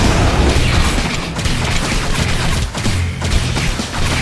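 Shooting at orcs in the tower defense game Orcs Must Die, dense rapid bursts of weapon fire and impacts mixed with crashing booms, loud and continuous throughout.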